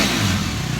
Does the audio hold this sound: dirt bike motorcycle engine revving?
yes